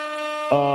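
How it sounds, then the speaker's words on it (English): A loud, sustained horn blast with a rich stack of tones, jumping to a brighter, harsher pitch halfway through, sounding alone. "Air horns for that."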